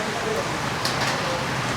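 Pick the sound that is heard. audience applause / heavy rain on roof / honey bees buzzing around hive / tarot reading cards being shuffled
heavy rain on roof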